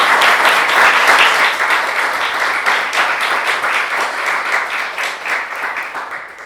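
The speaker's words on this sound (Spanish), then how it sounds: "Un aplauso, ¿no?" An audience at a book presentation claps in sustained, dense applause that stays loud and even for several seconds before easing slightly toward the end.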